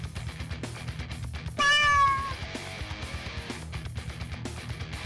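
A cat meows once on a sports radio show, a single clear drawn-out meow of about a second, loud against a rhythmic music bed.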